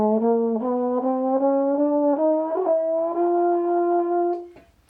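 Sustained musical notes with rich harmonics rise step by step in even semitone increments, climbing an octave in twelve equal steps, each note held briefly and clearly with no talking.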